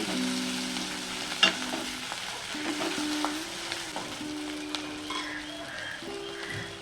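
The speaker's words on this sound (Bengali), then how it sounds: "লঙ্কা দিয়ে আরও এক মিনিট মতো ভেজে নেব" Shrimp and chopped green chilies fry in a pan with water-lily stems, a soft continuous sizzle broken by occasional spatula clinks and stirs, close but fairly quiet, no voices.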